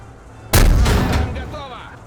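Enemy tank's ammunition cooking off in a tank video game: a single loud blast with a sharp onset, then a rumbling decay that fades over about a second, with some ringing tones trailing off.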